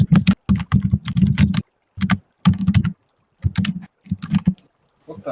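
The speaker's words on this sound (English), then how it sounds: "Yeah, that's what typing sounds like." Typing on a computer keyboard: close, fairly loud clusters of rapid keystrokes in uneven bursts, separated by short pauses.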